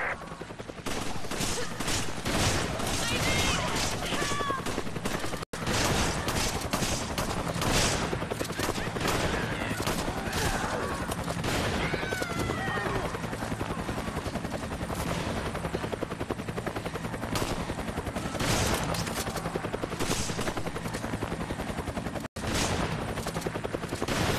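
Dense, continuous bursts of rapid gunfire and explosions in the video game Resident Evil 5, loud and sustained, with occasional brief dropouts from lag and a low mechanical drone underneath.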